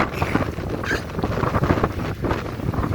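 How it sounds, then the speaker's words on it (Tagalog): Strong wind buffets the microphone in a constant loud rumble with gusty surges throughout. "dinig na dinig sa video yung hangin"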